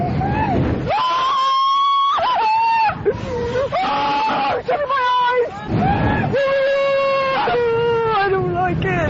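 A woman on a roller coaster lets out long, loud, wavering screams, broken by short pauses, with excited crowd noise and the rush of the ride underneath.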